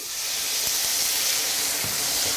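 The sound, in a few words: spoonful of water sizzling as it deglazes caramel in hot pan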